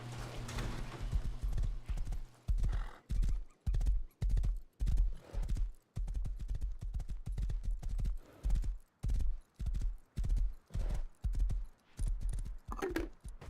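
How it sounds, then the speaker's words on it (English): A horse in the survival game Rust clip-clops at a steady trot, its hooves striking in an even, repeating rhythm at a close, moderate level, with a short whinny near the end and no talking. "oh, I got a horse, no problem."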